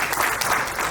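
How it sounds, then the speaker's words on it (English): Audience applause at a community tech seminar and musical night, a brief burst of dense clapping from a crowd, steady and fairly loud across the moment. "Round of applause for him."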